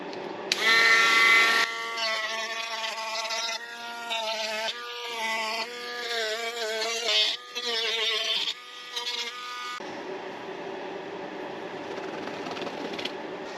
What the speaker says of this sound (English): I'm just taking my Dremel tool and start cleaning these up